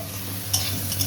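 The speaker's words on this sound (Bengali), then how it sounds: "আলু ভাজা হচ্ছে গাইস, আলু ভাজা।" Potatoes frying in a pan give a steady, close sizzle with a low hum underneath, and a couple of brief stirring scrapes.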